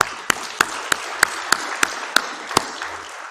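Applause from an audience at a central bank launch event, heard as sparse, evenly spaced sharp claps over a soft crowd wash, fairly close.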